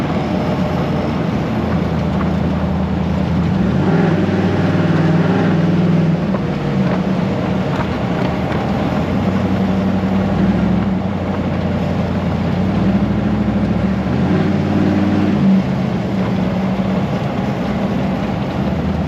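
An LS-swapped Humvee on a dyno in second gear holds a loud, constant, droning engine roar near at hand, its pitch wavering slightly under load with no talk over it.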